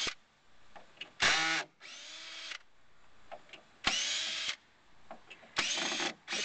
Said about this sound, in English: Is Daddy taking off the screws?